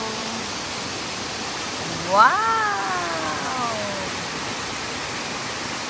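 Pearl Waterfalls in Mui Wo roar with a steady, broadband rush of falling water, and partway through a nearby voice gives a short exclamation over it.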